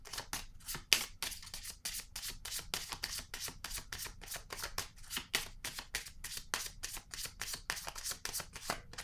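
Tarot-style cards being shuffled before a draw: a quiet, close, rapid series of crisp card slaps and riffles in an even, continuous rhythm.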